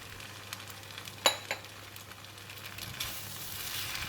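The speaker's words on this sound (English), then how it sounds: "So I'm going to put in the bean sprout." Bean sprouts stir-frying with kuey teow noodles in a pan, a soft steady sizzle with a couple of sharp clinks of a utensil against the pan and a brighter hiss rising near the end.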